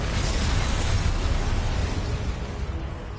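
A Confringo fire-blast spell exploding in Hogwarts Legacy, a loud, dense roaring burst that fills the whole span and slowly fades toward the end.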